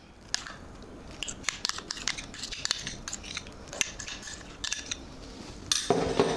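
Almond and pistachio paste stirred into a thandai mix, with a run of sharp metallic clinks and taps of a spoon against a pot at an irregular pace, close and fairly quiet.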